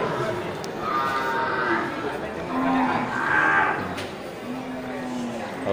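Aceh cattle low in a few drawn-out moos at a busy outdoor livestock market, heard amid crowd chatter and voices.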